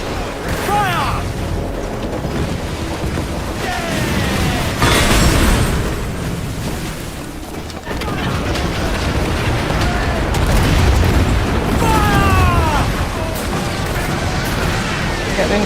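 Ship cannons on a pirate vessel firing broadsides in Assassin's Creed Black Flag, loud booming volleys over roaring sea and battle noise, with shouted voices between shots.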